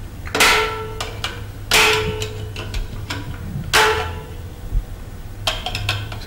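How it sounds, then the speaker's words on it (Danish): A pressure plate is screwed into place on a Harley: sharp metallic clanks and ticking taps from tools on metal, in a few loud clusters with lighter clicks between, close up and without speech. "Så kan vi begynde med at skrue trykpladen smøtrigger på plads"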